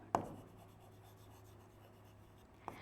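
A pen scratches briefly on paper during a botany lesson, with a short stroke at the start and another near the end against a quiet room hum.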